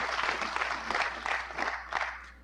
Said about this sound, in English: I want you to applaud yourself this morning